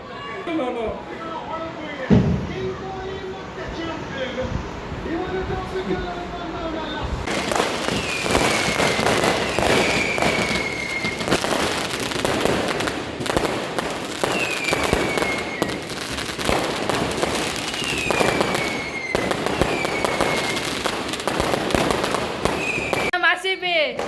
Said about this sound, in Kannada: ಇವರೆಲ್ಲ ಪಟಾಕಿ ಗೈಸ್, ಇಡೀ ಬೆಂಗಳೂರೇ ಪಟಾಕಿ